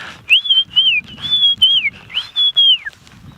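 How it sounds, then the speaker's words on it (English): White-faced whistling ducks flying overhead at sunset in the African wild, giving a series of clear, high, sliding whistles in quick repeated phrases, close and loud over a faint low background. "Some white-faced whistling ducks you may have heard coming in over the top."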